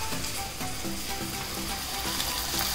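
Curry with garam masala sizzles and fries in a pan, a dense steady crackle with faint stirring scrapes throughout, close and fairly loud, no one speaking.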